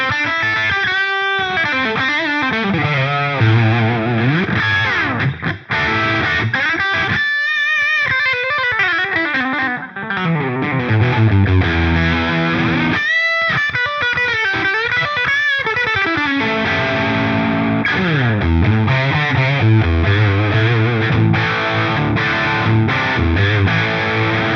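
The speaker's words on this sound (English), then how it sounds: "what we end up with the microphones and these settings on the MiniPlex 20" An electric guitar played through an Amplitube 5 Friedman MiniPlex 20 amp model with a touch of room reverb rings out in distorted chords and sustained single-note lines, loud and continuous with brief pauses between phrases.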